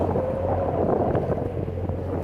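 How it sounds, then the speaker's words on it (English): Sailboat motoring under engine with its head sail rolled in, off Guadeloupe, giving a steady low engine drone with wind buffeting the microphone and faint water wash, constant and close with no talk. "We've got the head sail rolled in, and we're motoring."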